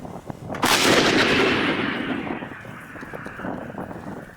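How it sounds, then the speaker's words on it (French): A single powerful artillery cannon blast booms out, followed by a long rolling rumble and echo that slowly fades into the distance. "Avant le coup de canon"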